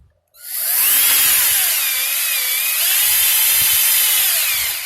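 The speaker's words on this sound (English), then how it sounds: "This is another drill now, motor drill." A power drill whirs up abruptly and runs loud and steady close by, drilling into a 1976 Chevrolet Vega engine block, its high motor whine wavering slightly in pitch.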